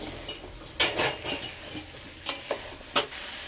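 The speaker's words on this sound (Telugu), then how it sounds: "వేసేసి మరో 2 నిమిషాలు ఇలా కలుపుకుందాం" Meal maker soya chunks are stirred in a frying pan, with several scraping strokes and clinks against the metal over a quiet sizzle.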